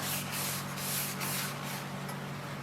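A rusty cast iron pan is scrubbed clean with a continuous, close, gritty rasp that rises and falls in quick strokes.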